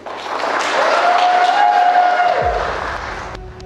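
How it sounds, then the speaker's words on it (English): Wedding guests at a Manor House ceremony in West Auckland break into applause after the couple is pronounced husband and wife, a broad wash of clapping that swells, holds, then fades, with a sustained musical tone running through it. "You may kiss the bride and we may applaud."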